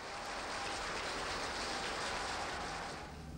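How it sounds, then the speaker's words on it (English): Soviet officials applaud Stalin in a continuous wash of clapping, dense and hissy like old archival film sound, holding steady before easing slightly at the end, with no voices. "Malenkov, Beria, Molotov, Kaganovich, all applauding the man they fear."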